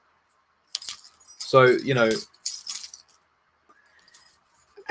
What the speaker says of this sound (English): No, it's not a rosary, it's my keys.